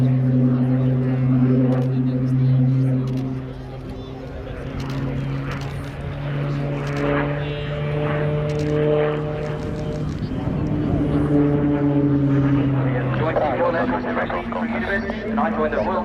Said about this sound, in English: keep your cameras panned on the aircraft as he appears to hang at the peak of his stall turn